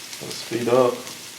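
Deer heart frying in a pan, a soft steady sizzle over a brief moment, with a voice speaking briefly over it.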